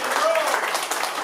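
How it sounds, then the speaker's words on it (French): Audience applause at a Quebec French show, a dense wash of crowd clapping with a voice briefly heard over it. "applaudissez Géo"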